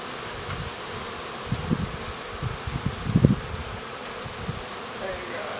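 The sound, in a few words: bees buzzing around a hive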